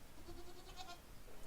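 A goat gives a faint, brief wavering bleat, distant and quiet against low background hiss, with no talking.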